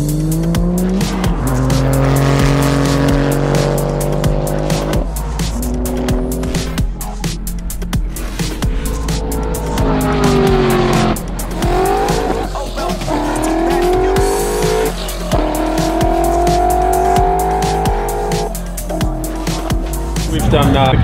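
Race cars make timed 1,000 metre passes at a racing event, loud engines revving up through rising gear changes with tire squeal, shifting in pitch as they accelerate, with voices talking underneath.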